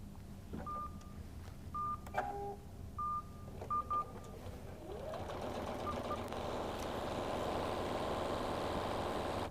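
A QuiltMotion X computerized quilting machine starts after several short electronic beeps, its motor whirring up into a steady, moderately loud mechanical hum that keeps running to the end.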